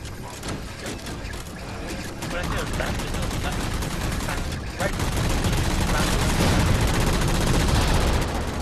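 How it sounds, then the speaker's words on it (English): Rapid gunfire in Halo 4 co-op on Legendary, aimed at a Banshee, rattles in dense bursts that grow louder and thicker partway through, mixed with game sounds and a voice speaking over it. "shooting a banshee"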